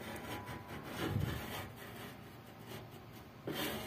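A pencil or marker scratching lines onto a wooden bench in a homemade woodworking project, faint close rubbing strokes in short irregular passes, with no talking.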